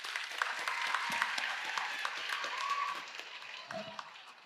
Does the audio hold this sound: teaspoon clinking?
no